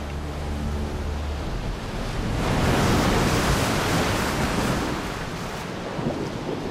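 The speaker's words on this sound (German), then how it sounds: "Es ist ein Hexenkessel der Gezeiten, Winde und Wellen." Ocean surf rushes and swells with wind blowing across it, building to a loud broad roar midway before easing slightly; no voices.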